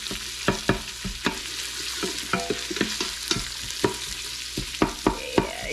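About a cup of peppered bacon fries in a pan with a steady, close sizzle, broken by sharp crackles and pops scattered throughout, with no talking.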